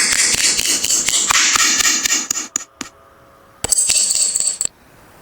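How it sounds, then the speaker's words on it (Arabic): Light knocking taps in a quiet room at night, a run of short sharp raps repeating quickly and fairly close, then a brief pause and a second burst before stopping. "سمعت صوت خبط خفيف"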